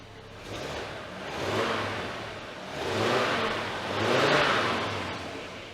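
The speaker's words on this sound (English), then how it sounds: "it makes that big 5-cylinder roar. It is just a lovely car to drive. You know, it doesn't even feel like it's 30 years old. Do a little rev, a little cheeky rev" The five-cylinder engine of a 1990 Audi 100 Avant revs in three rising and falling surges, close by and full-bodied, with no talking over it.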